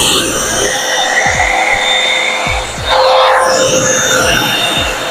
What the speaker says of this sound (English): I'm using my blur dryer.